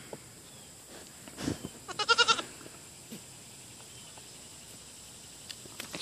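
A Nigerian Dwarf goat bleats in a short, quavering burst near the middle, preceded by a single call and surrounded by faint barnyard shuffles and clicks in an otherwise quiet space.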